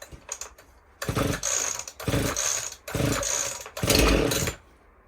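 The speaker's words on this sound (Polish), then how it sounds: "Pokażemy jak ona pracuje. Sanie, odprężnik i lecimy z koksem." Shindaiwa 501 SX chainsaw cutting a log of pine, loud and close, with four sustained revving bursts separated by brief drops back to idle.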